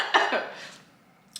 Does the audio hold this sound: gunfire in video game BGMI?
no